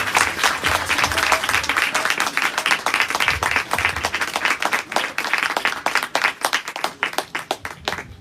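A church congregation breaks into enthusiastic applause during a sermon gathering, a full room of hands clapping loudly and continuously, gradually thinning into scattered claps toward the end.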